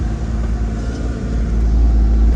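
Road traffic at night near Taloja MIDC on a busy road, a continuous low engine rumble that swells slightly as a vehicle passes close by.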